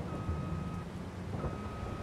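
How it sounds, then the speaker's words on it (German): Steady rain in Farming Simulator 22, a constant broadband hiss with a faint tonal hum underneath and no voices. "Es regnet im Übrigen immer noch"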